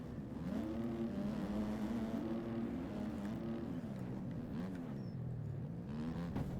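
A dirt bike engine in the motocross video game MX Bikes drones and rises and falls as the throttle is opened gently. It is heard alone at moderate level, with a steady buzzing pitch that wavers.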